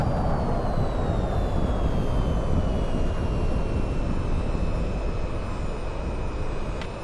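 An EF-24G jet in the flight game VTOL VR taxis with a steady, loud engine roar and a faint high whine that drifts slowly downward, continuous with no talk.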